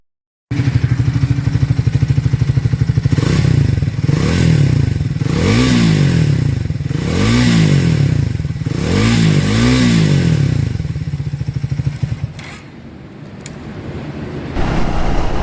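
A Triumph Speed 400 motorcycle accelerates hard, its engine note climbing through several rising gear pulls up toward 120, loud and close with a steady rumbling drone and brief dips between shifts, easing off near the end.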